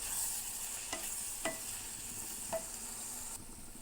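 Brinjal fry with chili powder cooking in a pan, a quiet continuous sizzle broken by four sharp spatula scrapes spaced about a second apart, close and fairly soft.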